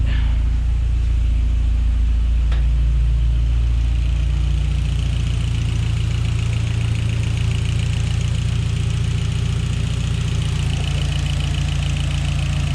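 A Hyundai Genesis Coupe engine idles steadily after a spark plug change, a loud, even low rumble with a faint click early on; no voices.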